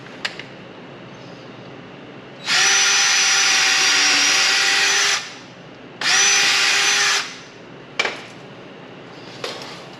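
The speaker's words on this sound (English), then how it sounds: "we're drilling into this concrete and putting some blue screws in" A power drill drives blue screws into concrete in a shop in two loud whining bursts of about three and one seconds, separated by pauses with sharp knocks and clicks afterward, no voices.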